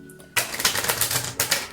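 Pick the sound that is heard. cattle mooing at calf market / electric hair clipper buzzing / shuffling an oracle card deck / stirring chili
shuffling an oracle card deck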